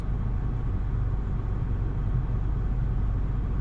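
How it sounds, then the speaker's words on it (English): A 2009 Nissan Versa engine idles steadily after a coil pack replacement, giving a smooth, even, low hum that stays constant and close by, with no talking over it. "You see that idle's real smooth."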